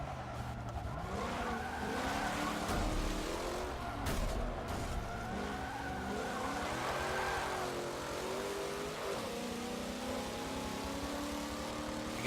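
A turbocharged Toyota race car revs and accelerates in a driving video game, engine pitch rising and falling through gear changes with tire squeals, loud and continuous without speech.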